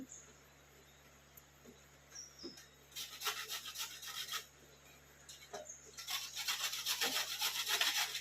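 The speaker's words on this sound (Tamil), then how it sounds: "நெல்லிக்காய் எடுத்து துருவி இருக்கேன் நான்." Whole amla (Indian gooseberries) grated by hand for amla rice, a rough rasping scrape that starts faint and intermittent, then comes in louder bursts of repeated strokes up close.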